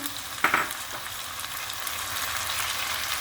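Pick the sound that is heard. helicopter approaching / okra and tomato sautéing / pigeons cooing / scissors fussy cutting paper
okra and tomato sautéing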